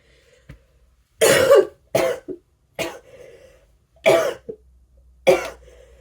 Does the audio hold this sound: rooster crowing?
no